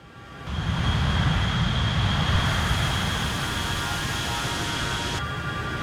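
Twin turbofan engines of an A-10C attack jet spooling up to full power in a flight simulator, a steady loud roaring whoosh with a thin high whine that holds constant after a quick rise.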